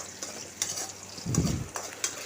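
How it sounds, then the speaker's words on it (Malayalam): Curry leaves and black pepper for chammanthi podi stirred in a pan, a soft scraping and sizzling swirl with a fuller burst of stirring midway, no voices. "ഇതെല്ലാം കൂടി ഇട്ട് വീണ്ടും ഒന്ന് ഇളക്കി കൊടുക്കാം"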